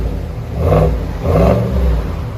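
A 2020 GMC Sierra AT4 with a 6.2L V8 and Borla Touring dual exhaust revs twice in quick succession, each deep swell rising and falling, loud and close with no talking.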